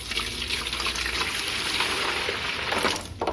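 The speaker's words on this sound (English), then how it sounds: "take the jug and pour some of the water in the jug" Water is poured from a jug into a tub used for raising black molly fish, making a steady, close gushing and splashing flow for about three seconds with no talk over it.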